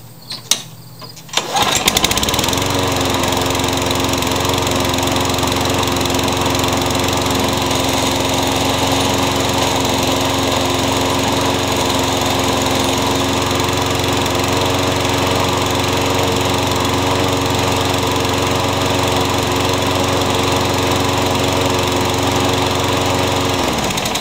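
Craftsman lawn mower with a newly replaced starter rope, cold engine pulled into life after a few quick rattles, then running loud and steady at close range with an even buzzing drone.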